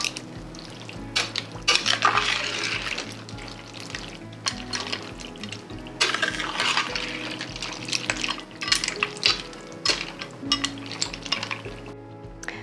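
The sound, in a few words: stirring beef broth in a pot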